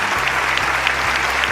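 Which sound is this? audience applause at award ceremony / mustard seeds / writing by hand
audience applause at award ceremony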